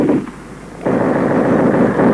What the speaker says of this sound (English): Bado kuna machine gun.